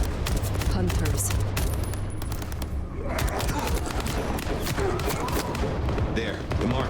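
Rapid bursts of gunfire crackle across a dense, noisy scene, shots overlapping in quick succession throughout.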